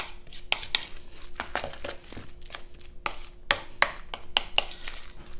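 A venison meatloaf mixture is stirred in a bowl. A utensil gives irregular sharp clacks and knocks against the bowl over soft, moist mixing noise, close and fairly loud.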